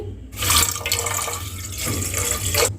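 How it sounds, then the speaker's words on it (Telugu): Four cups of water poured into a bowl for cooking a sweet dry semiya (vermicelli) dish, a steady splashing pour running for a couple of seconds, close and fairly loud, with no talk. "ఇప్పుడు అదే బౌల్లో నాలుగు కప్పులు నీళ్లు పోసుకోవాలి"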